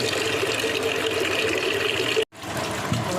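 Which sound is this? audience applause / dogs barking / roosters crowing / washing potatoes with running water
washing potatoes with running water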